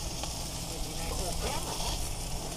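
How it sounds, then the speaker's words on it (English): Burgers frying in a pan, a steady broadband sizzle with faint crackles running continuously throughout at moderate level, no talk over it. "I'm working on the burgers"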